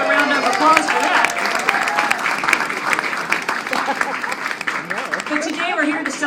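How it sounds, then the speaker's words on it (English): Audience applause at a public celebration about national parks and Pullman, a loud, sustained clapping of many hands mixed with crowd voices, holding strong for several seconds. "let's give a round of applause for that"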